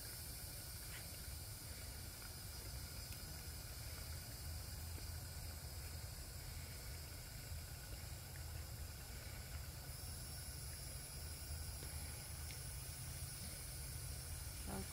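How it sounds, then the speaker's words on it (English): A pan of jute leaf stew base fries steadily, giving a faint, continuous hiss and sizzle with no talking over it. "as you see it's frying"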